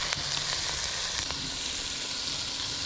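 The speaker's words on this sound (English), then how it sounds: "So we're gonna simmer that for 20 minutes now." Tomato sauce of crushed tomatoes and minced garlic simmers in a pan at a tent campsite, giving a steady, close, hissing sizzle throughout with no talking.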